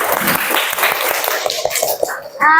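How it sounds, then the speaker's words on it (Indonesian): Classroom applause: a brief burst of clapping from a group of students, quick overlapping claps for a couple of seconds with a voice briefly audible near the end. "Oke, tepuk tangan semuanya."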